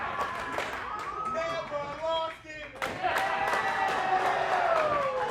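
A crowd at a Christian Wrestling Federation match cheers and applauds, a dense roar of shouts and clapping that dips briefly midway, then surges back louder, with voices shouting over it.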